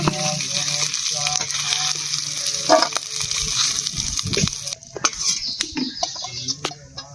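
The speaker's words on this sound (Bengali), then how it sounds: "শুকনো মাছটা ভেজে নিচ্ছে, তুলে নেব।" Dried fish fries in hot oil in a wok, a bright, crackling sizzle with occasional stirring clatter, close and continuous, with faint background bird clucks.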